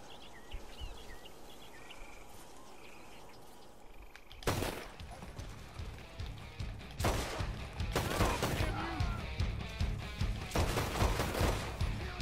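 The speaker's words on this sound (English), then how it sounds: "I'm gonna let loose with these pistols" Pistol shots in Red Dead Redemption 2 crack out in several bursts over outdoor ambience with birds and insects, starting after a quieter stretch and getting louder and more frequent toward the end.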